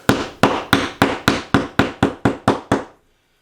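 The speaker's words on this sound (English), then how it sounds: "just take a hammer and use the head flat, create just a small divot" A hammer head taps a drywall nail flat into a small divot, ten sharp, evenly spaced strikes at a steady rhythm, close and loud, then silence.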